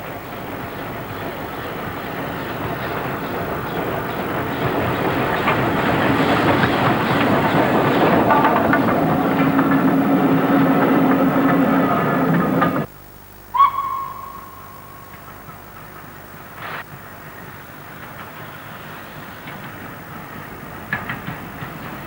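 Locomotive 69023 hauling two coaches, one from North Eastern Railway days, on a heritage railway across the North Yorkshire moors. A steady rumbling run swells and then cuts off abruptly, followed by a short whistle and scattered faint clanks.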